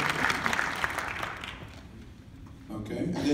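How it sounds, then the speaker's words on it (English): An audience at a public discussion on a maglev train line claps for a guest, the applause loud at first and thinning out over a couple of seconds before a speaking voice comes in. "Please give him a round of applause."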